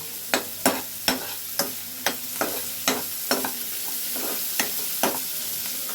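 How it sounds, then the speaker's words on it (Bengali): Onions browning in a pan, a steady sizzle broken by about a dozen sharp scrapes of a spatula stirring at a fairly regular pace, close and clear, with no one talking. "পেঁয়াজটা লালচে রং ধরেই নিয়েছে। হালকা ভাজা করেই করতে হবে, কাঁচা ভাবটা যেন চলে যায়।"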